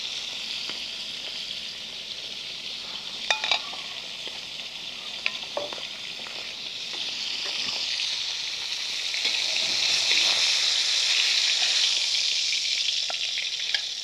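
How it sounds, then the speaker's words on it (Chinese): Scallion, ginger and pork stir-fried in oil left over from pan-frying a fish head, a steady close sizzle with occasional scrapes and taps of the spatula, swelling louder toward the end. "然后呢就用这个锅里头剩的这个油呢来炒刚才的这个葱姜和这个肉"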